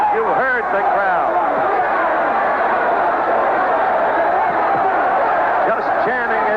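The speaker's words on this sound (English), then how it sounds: "Just chanting as one. Benitez, Benitez, Benitez." Baseball stadium crowd at a boxing fight between Wilfred Benitez and Carlos Palomino, chanting in unison for Benitez, a loud, continuous roar of massed voices with rhythmic rising shouts.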